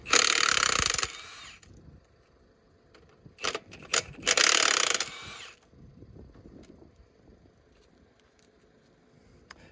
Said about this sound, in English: we're just taking this ring of bolts out